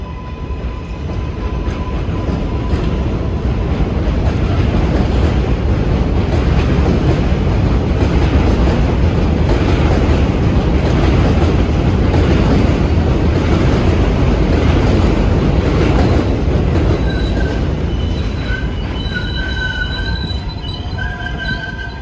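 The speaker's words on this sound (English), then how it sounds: "we see this Flushing-bound local train pulling out" A Flushing-bound local on the New York City 7 line pulls out of an elevated station, its wheels rumbling and squealing along the rails in a loud, sustained wash that swells and then slowly fades, with no talking.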